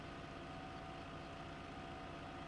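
Tractor engine in Farming Simulator 15 runs at a steady, continuous idle-like drone, low and rumbling with no breaks, heard alone with no talking.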